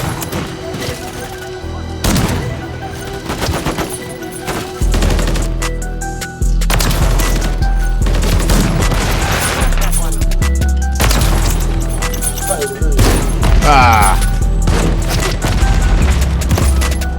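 Repeated shotgun blasts and heavy gunfire from a video game shooter, loud and close, with booming low-end shots in bursts across the clip while a player talks over the action.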